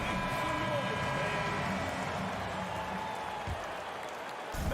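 Crowd applause in the NBA 2K23 basketball video game, a sustained wash of clapping and arena crowd noise that fades slightly toward the end.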